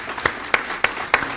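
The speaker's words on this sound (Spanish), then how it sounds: "les pido un aplauso, por favor," A forum audience in Peru applauds a panel, a continuous bed of many hands with a few sharper nearby claps standing out at a regular pace.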